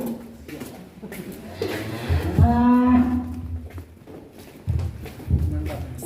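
Bali cattle in a pen on a farm moo loudly, one long low call in the middle, with hoof clatter and shuffling around it and people talking nearby.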